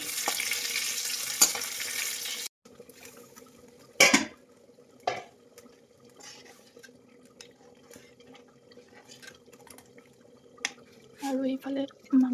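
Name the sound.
oil frying in a pan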